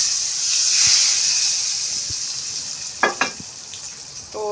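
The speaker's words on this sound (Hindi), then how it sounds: "ये तड़का मैं अपनी दाल में लगाती हूँ।" Hot tempering poured into arbi chana dal sizzles steadily with a bright, hissing crackle, joined by a few sharp spits and pops near the end.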